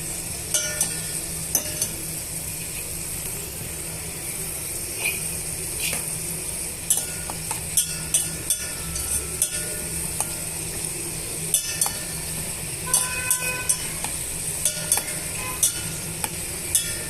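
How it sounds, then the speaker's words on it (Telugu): Dry fruits fry in ghee for semiya kesari, a steady sizzle running throughout with frequent clinks and scrapes of a spoon stirring against the pan. "ఇప్పుడు ఈ డ్రై ఫ్రూట్స్ అన్నీ మనము ఫ్రై చేసుకుందాము"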